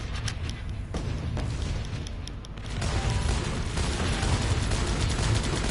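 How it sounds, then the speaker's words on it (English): Soldiers trading weapon fire in the video game Guns Up, a dense continuous barrage of rapid gunshots and thudding booms that grows louder and busier partway through, with no talking over it. "Fire your weapon, soldier"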